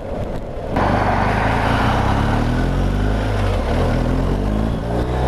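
A BMW R1250 GS Adventure motorcycle's engine pulls hard with a loud, steady drone that rises in pitch as it accelerates, close and continuous after a brief quieter start.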